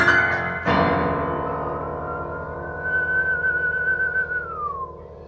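A lone human whistles a melody in a musical masterclass, one clear sustained whistled line that holds steady, wavers gently and bends downward at the end, after a brief attack near the start.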